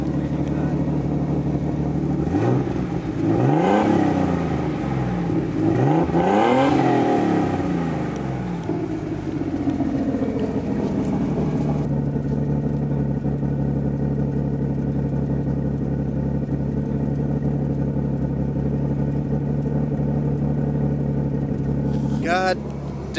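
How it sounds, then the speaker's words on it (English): Rebuilt RB30 engine in a Nissan Skyline R33, close by, revved hard twice in rising and falling sweeps and then settling into a loud steady idle, with a brief blip near the end. "Yo, give it some revs, man."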